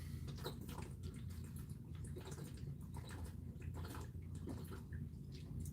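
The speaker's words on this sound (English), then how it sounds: "All right, just a little water for one shirt." Water pours and splashes steadily into a basin for washing a single green shirt, a close, continuous gurgling and dripping with no talk over it.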